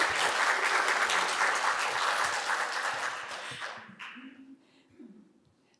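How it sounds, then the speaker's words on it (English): An auditorium crowd at a medical workshop applauds loudly and evenly for about four seconds before the clapping dies away into a near-quiet hall. "Should we have another round of applause"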